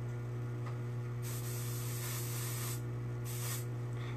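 An airbrush spraying black paint hisses in two bursts over a constant low electrical hum, each burst lasting a second or so before cutting off, with no talking.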